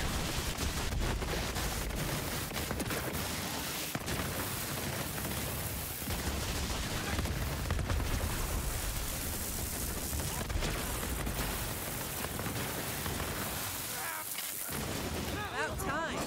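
The legendary Spade gun in the video game Borderlands 3 fires in rapid, continuous bursts of loud booming shots with explosive impacts, while a voice talks beneath the gunfire.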